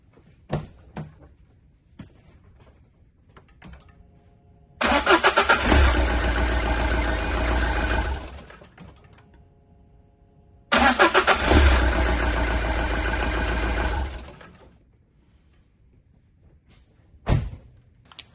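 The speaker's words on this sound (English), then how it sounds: "Now start the car again." A car with a completely dead battery is started with a Topdon JS3000 portable 12V jump starter. The engine cranks and catches twice, and each time it roars loudly for a few seconds before cutting out, with near silence and faint clicks in between.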